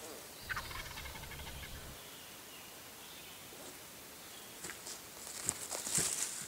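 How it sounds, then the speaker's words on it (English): A wild turkey gobbles repeatedly in the woods, distant but clear gobbles breaking over steady outdoor background with light rustling and footsteps, no talking. "Turkey's done got cranked up, gobbling good."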